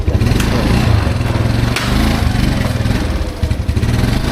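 A motorcycle taxi engine runs steadily up close, a low chugging idle with slight revving, continuous throughout with no talk, on a Yamaha Mio scooter in Indonesia.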